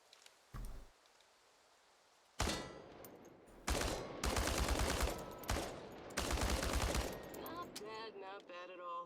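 Automatic rifle fire at tin cans on a firing range in the video game Chernobylite: a lone shot, then several long loud bursts of rapid fire with short pauses, ending in clinking and ringing metallic tones.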